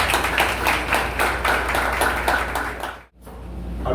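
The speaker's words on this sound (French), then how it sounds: "Applaudissez les jeunes." An audience at an international teachers' day celebration held by FENASE in Haiti claps for the young people, steady rhythmic applause from a crowd that cuts out briefly near the end before resuming.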